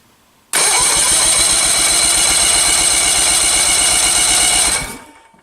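A 1964 Evinrude outboard motor, low on compression, cranks with the throttle open in one loud, continuous mechanical whirring burst of about four seconds that cuts off abruptly and then fades.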